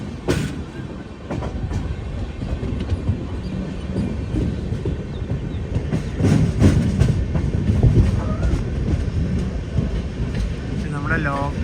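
The Donyi Polo Express passenger train runs through northeast India with steady clickety-clack wheel rhythm and rail rumble, with a brief wheel squeal near the end and people talking over it.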